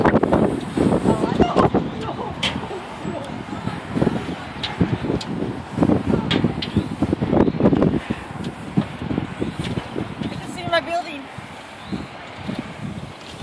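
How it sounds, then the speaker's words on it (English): Gusty wind buffets the microphone in continuous rough rumbles, with people talking over it. "Windy."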